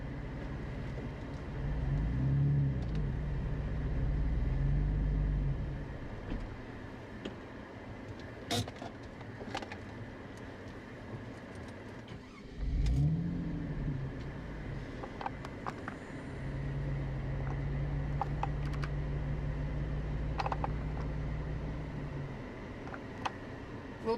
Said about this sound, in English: I'm gonna turn my car a tad so my camera can get a better view